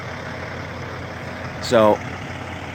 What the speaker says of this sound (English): So I see a TNA truck stop.